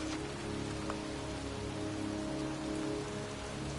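Pouring rain in a cemetery in a PS4 video game, a dense, steady hiss of drops on surfaces running without a break, with a low ambient hum underneath and no voices.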